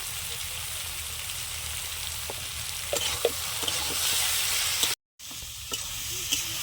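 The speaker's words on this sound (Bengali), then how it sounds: "আলুটা আমি আগে দিয়ে একটু ভেজে নিয়েছিলাম তারপর ঝিঙেটা দিয়েছি এবার আমি লবণ দিয়ে দেবো দিয়ে ঢাকা দিয়ে দিয়ে আমি সবজিটা ভালো করে কষিয়ে নেবো" Ridge gourd and potatoes fry in a pan with a steady, close sizzle and occasional light clicks of stirring, broken by a brief silent gap near the end.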